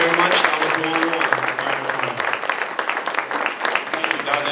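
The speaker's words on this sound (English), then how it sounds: "give a round of applause for Gary McCoy" Conference audience applauding a speaker, a dense, loud burst of many hands clapping that stays steady then thins slightly, with voices talking over it near the start.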